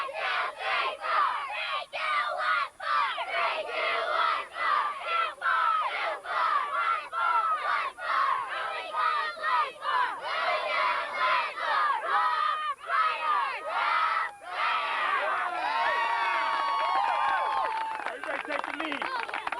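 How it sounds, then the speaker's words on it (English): Youth football cheerleaders at Poway Field chant in rhythmic unison, a group of young voices shouting short repeated call-outs with brief pauses between phrases, loud and close, with crowd noise and clapping mixed in. "Let me hear that chant a little bit, huh?"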